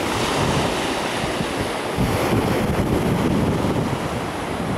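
Sea waves wash onto the shore at Lazarevskoye under a light wind, a loud continuous roar of surf with gusty wind buffeting the microphone and no voices.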